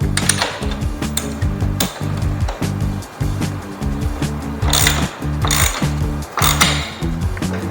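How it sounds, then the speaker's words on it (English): A wrench tightening the axle on a Thumpstar pit bike: a loud, close ratchet clicking in steady repeated strokes, with a few sharper metallic clacks in between and no talking. "We can tighten up our axle."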